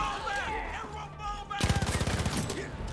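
Rapid automatic gunfire in Far Cry 5 arcade tower combat, a dense burst of shots breaking out after a stretch of quieter game sound and continuing loudly to the end, with faint voices underneath.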